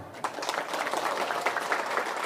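An audience at a community religious gathering claps, giving a dense, steady patter of many hands close by that lasts the whole stretch.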